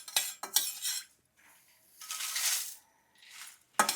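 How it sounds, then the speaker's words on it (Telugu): Dry red chillies fry in a little oil in a pan for idli karam, heard as intermittent scraping and clattering bursts of stirring with quiet gaps and no talk. "ఫస్ట్ ఎండుమిరగాయలు ఫ్రై చేస్తాను, ఆ తర్వాత ధనియాలు ఫ్రై చేస్తాను"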